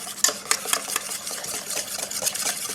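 A whisk beats rapidly against a bowl as softened gelatin is stirred into a hot mixture for a praline mille-feuille, giving a steady run of quick, close scraping and clinking strokes.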